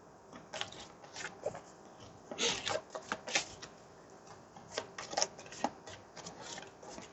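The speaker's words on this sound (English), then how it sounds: "I'm going to shuffle." A deck of game cards is shuffled close up during play of a hockey-themed team-building card game, giving a run of quick riffling and flicking bursts, some louder than others, with no talk over them.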